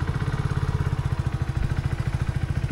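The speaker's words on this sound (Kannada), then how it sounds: "ಇವಾಗ ಇಂಜಿನ್ ಆನ್ ಮಾಡ್ತೀನಿ" A Hero Passion Plus motorcycle in neutral runs with a steady, even low thump of its engine, loud and close with no talk over it. The start itself is not distinct.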